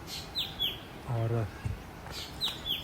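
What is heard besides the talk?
birds singing on a walking trail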